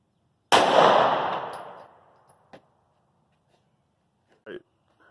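A single close, loud 9mm pistol shot from a short-barrel Ruger LC9S firing Sig Sauer V Crown 115 grain ammunition, with a long decaying echo, then a faint click and a brief later knock.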